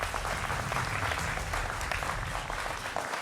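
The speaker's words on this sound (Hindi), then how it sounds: "जोरदार तालियों के साथ तमाम मेहमानों का अभिनंदन है" Studio audience applause welcomes guests on a Hindi television political debate show, a thick, continuous burst of many hands clapping at a steady level throughout.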